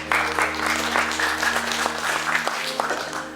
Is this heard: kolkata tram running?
no